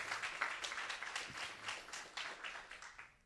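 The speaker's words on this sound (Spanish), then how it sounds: "Le damos una ofrenda de palmas al Señor" A church congregation claps hands together as an offering of praise, a dense, steady burst of many hands clapping at once with no talk over it.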